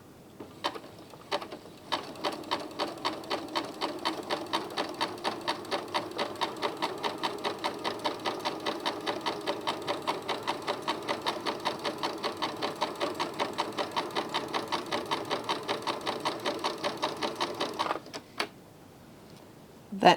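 A sewing machine with a beading foot stitches beads on at a 3mm zigzag width and 1.5mm length, running as a steady, fast needle patter for about eighteen seconds before stopping, near and clear with no talk.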